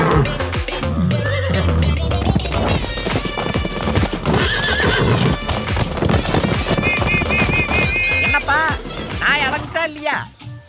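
Hoofbeats clip-clop and a horse neighs among loud music and sound effects in a Tamil superhero film scene, with voices talking over it.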